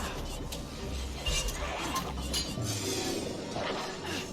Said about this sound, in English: Like breaking glass.